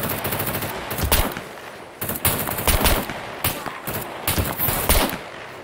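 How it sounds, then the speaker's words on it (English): Loud, rapid machine gun fire from a video game, coming as several sustained bursts of close, crackling shots separated by short gaps. "Someone is shooting me like crazy."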